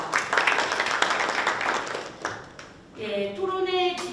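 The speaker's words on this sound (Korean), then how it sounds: "모든 분들께 감사의 말씀을 전하며 박수로 맞았으면 합니다" Applause from an audience at a Busan labor forum on social welfare workers: a few seconds of moderate clapping that fades out before a voice begins speaking.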